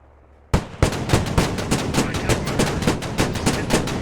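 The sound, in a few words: cannon fire from armored vehicles in a video game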